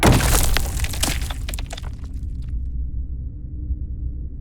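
A skull shatters in a brittle crash at the start, with scattered cracking fragments that quickly die away into a low, quiet rumble.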